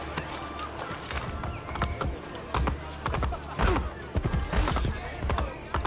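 Galloping horse hooves in the video game Assassin's Creed Brotherhood, a rapid, uneven clip-clop of hoofbeats with a brief whinny, running under talk.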